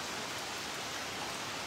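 Steady rain falls at a Buddhist temple in London on a summer evening, a dense, even wash of drops with no breaks, fairly soft and with no voices.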